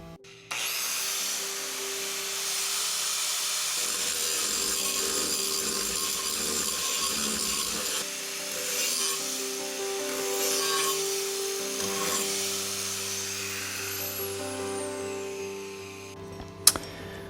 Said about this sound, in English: after a bunch of grinding and a little bit of polishing on the edges with the sander